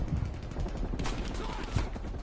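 Sustained light machine gun fire in a video game, rapid shots rattling on steadily at moderate loudness, with a few louder cracks standing out in the stream.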